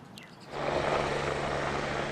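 A helicopter flies over the Maui wildfires. Its steady, loud rotor and engine rumble swells in abruptly after a quiet half-second, then holds as a continuous broadband roar with no talk.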